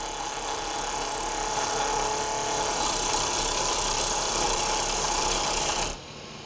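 A wood lathe turns a dovetail on a kitchen scoop blank with a Bedan tool, giving a loud, continuous hiss and whir of cutting that drops off abruptly near the end, leaving the motor running.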